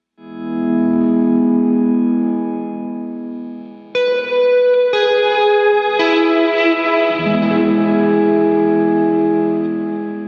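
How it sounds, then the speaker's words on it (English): Sustained electric guitar chords through an HD reverb set heavy ring out with a washy reverb, each new strum blooming and trailing into a long ambient tail. "From there, I've got this HD reverb, which I've got set pretty heavy."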